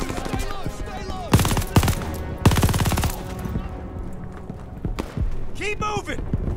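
An MG42 machine gun firing in Call of Duty Vanguard, several loud rapid bursts of rattling fire close by, mixed with other shots and battlefield noise, while voices talk throughout.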